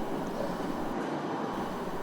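A 1943 historic tram in Brno, Czech Republic, rumbles along steadily, a continuous broad rolling noise of wheels and motor without pauses, fairly close and even in loudness.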